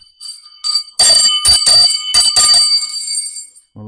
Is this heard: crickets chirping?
no